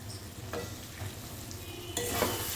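Potol and potato curry being stirred in a pan after grated khoya is added: a close scraping stir over a steady soft sizzle, growing louder near the end, with no voices.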